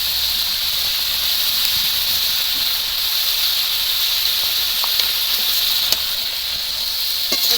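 Vegetables with onions sizzling in mustard oil in a pan, a loud, steady hiss with faint occasional clicks, close and without speech.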